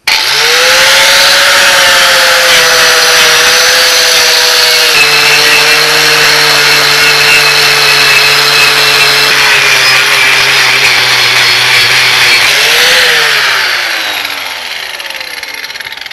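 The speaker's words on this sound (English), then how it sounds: "I'll show you just by polishing this up with a sort of wire brush, the effect that it has on the steel itself is quite amazing" A powered wire brush runs against steel, making a loud continuous whine with a steady tonal drone that dips slightly midway and fades near the end.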